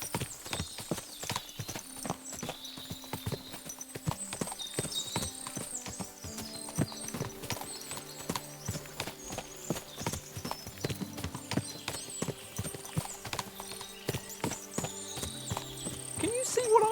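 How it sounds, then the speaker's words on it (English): Many horses in the medieval role-playing video game Kingdom Come: Deliverance II, with rapid overlapping clip-clop hoofbeats on hard ground and occasional neighs over a musical score, continuous and busy throughout. "What a lot of horses!"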